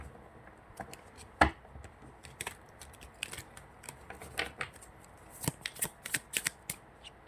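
Tarot cards being shuffled close up, a quiet run of soft riffles, flicks and sharp slaps of card stock, irregular and busier toward the end, no talking.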